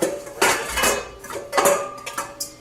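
A cup and a half of sugar is poured from a measuring container into a mixing bowl for cheesecake, giving several close, gritty rushing bursts with light clinks of dishware and no talking.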